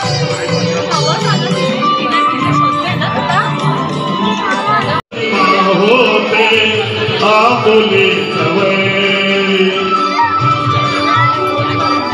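A dense crowd at Manori temple on Mahashivratri fills the scene with continuous loud chatter, shouting voices and children's cries, briefly cutting out once before the busy, close-by murmur resumes.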